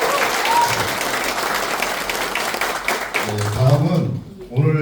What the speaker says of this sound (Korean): 장철민 국회의원님 큰 박수와 함께 인사드립니다.